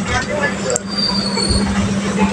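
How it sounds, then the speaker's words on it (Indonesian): Argo Parahyangan passenger train pulling in and halting at Bandung station, a steady rumble of rolling wheels with a sustained low hum and a thin high squeal over the platform, continuous and fairly loud throughout. "Kereta api Argo Parahyangan sudah masuk dan berhenti di stasiun Bandung."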